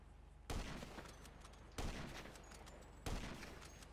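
Three heavy gunshots in the open-world crime game GTA V, evenly spaced about a second and a quarter apart, each a sharp loud crack with a short decaying tail over a faint background hum.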